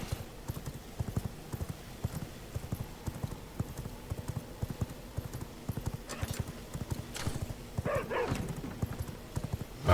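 Horse hooves in the video game V Rising clip-clop steadily in a fast, even rhythm throughout, with a short whinny near the end, all at moderate loudness.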